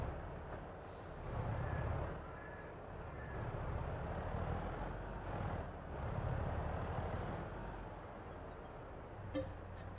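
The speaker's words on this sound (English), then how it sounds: "get in the truck" A truck drives in Farming Simulator 22, a steady low engine rumble that swells and eases in waves at moderate level, with a brief higher tone near the start and a short click at the end.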